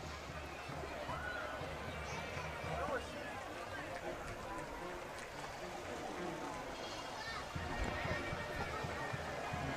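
Horses whinny and hooves clop at a distance during an equestrian presentation in a parade, beneath a crowded, noisy background with murmuring voices and faint music.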